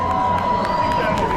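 A large crowd of visitors packs the queue for the Voltron Nevera ride at Europa-Park, a close, steady roar of cheering and shouting voices with children's cries rising above it.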